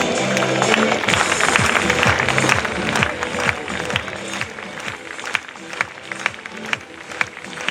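Audience clapping rings out at an outdoor dressage show, steady and moderately loud with crowd murmur and some rhythmic thuds beneath.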